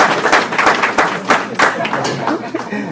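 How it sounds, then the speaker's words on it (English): An audience applauds at a public talk on health burdens, a moderately loud spread of claps running steadily through the whole stretch with a few sharper individual claps on top. "Let's applaud Kyrie for his struggle"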